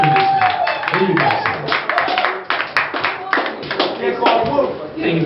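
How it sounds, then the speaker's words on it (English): Audience clapping for comedian Shawn Barron at a stand-up show in New Brunswick, a steady patter of hands close by with voices mixed through it. "Clap it up for this guy."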